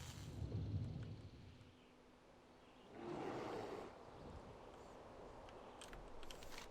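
In World of Warcraft Classic, a Thunderclap ability from Timbermaw creatures lands as a deep rumbling boom with rolling bursts of noise over quiet game ambience.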